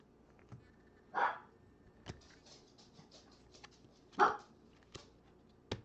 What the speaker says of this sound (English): I wonder what Mickey's barking at.